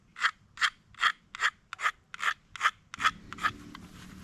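Repeated rasping strokes of a striker or blade scraping magnesium shavings from an Ozark Trail fire starter block, about ten short even scrapes close up, with a faint low hum joining in the last second.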